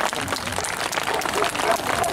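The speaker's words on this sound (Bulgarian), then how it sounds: "Вашите аплодисменти за нашите колеги от Украина." Audience at a demonstration performance in Bulgaria applauding visiting Ukrainian colleagues, a dense sustained clapping from a crowd with some voices mixed in.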